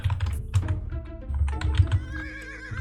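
Rapid keystrokes on a computer keyboard during an Age of Empires Gold session, clicking unevenly under tonal game sounds, including what could be a horse whinny, with a low background hum.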